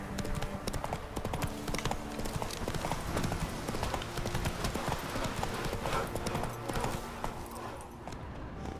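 Roach, the horse in The Witcher 3 next-gen on PC, gallops at full pace, rapid clip-clop hoofbeats loud and continuous, easing off near the end.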